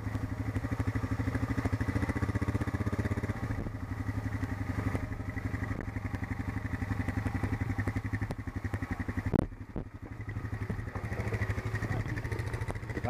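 A motorcycle in fourth gear rolls along very slowly, its engine giving a steady low throbbing drone with a rhythmic pulse throughout, briefly dipping with a thump near the end before resuming.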